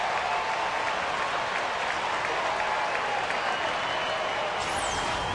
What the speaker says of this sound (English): he swings and misses and strikes out here, and the crowd roars in Kansas City.